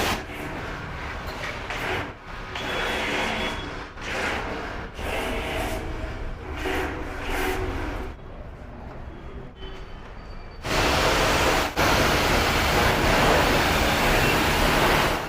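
Loud, steady hiss of a pressure washer spraying water on a Triumph Street Triple motorcycle, cutting in and out in bursts, with a harsher, stronger spray toward the end.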